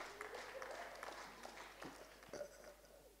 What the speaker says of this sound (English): The judge is clapping very hard.